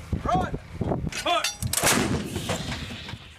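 Artillery guns firing during a Marine Corps training exercise, with heavy booms and rumbling blasts mixed under a voice speaking throughout, loud and dense with overlapping reports.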